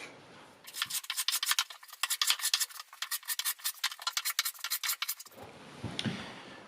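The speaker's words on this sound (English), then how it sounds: "I think that I can fix it by sanding a bit the bottom on the front side here" Wooden piece being hand sanded on its bottom edge, a fast series of rhythmic, raspy scrubbing strokes lasting several seconds, close and fairly quiet, with light handling noise before and after.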